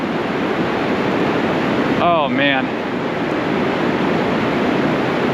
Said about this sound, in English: But these are still big waves.